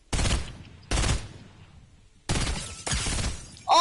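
Four loud, sharp bursts of gunfire from a PS4 shooter game, each a cracking blast with a brief decaying tail, separated by short near-silent gaps, heard alone without talk.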